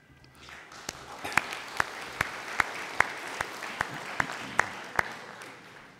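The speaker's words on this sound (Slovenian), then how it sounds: "Temu ni kaj ploskati, ampak ste pač tako vajeni" Applause from a seated audience at a political party congress in Vransko, Slovenia: a sustained wash of clapping from a crowd, punctuated by regular sharp, loud claps in a steady rhythm.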